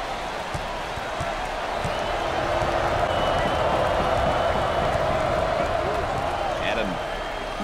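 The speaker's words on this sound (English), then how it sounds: "Listen to the crowd." A college basketball arena crowd roars steadily throughout a tense late-game moment, with a broad sustained cheer swelling in the middle, faint shoe squeaks and bounces underneath, and no talk.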